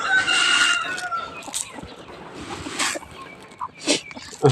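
Chickens cluck and a rooster crows nearby at feeding time in a temple yard in Chae Hom, Lampang, Thailand, with bursts of squawking and scattered pecking sounds.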